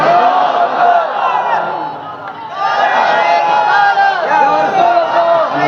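A religious gathering chants the takbir, "Allahu Akbar", as a loud crowd in unison. The voices swell in two bursts with a short dip between them.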